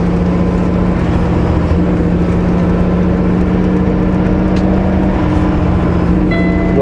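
A truck engine revs steadily and loudly while coasting down a 10% grade, its transmission failing to upshift, giving a continuous droning roar throughout with no talk.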